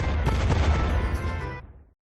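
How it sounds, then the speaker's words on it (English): A single heavy boom bursts out in a kitchen, loud and close, then its rumble fades away over about two seconds. "Was that an explosion"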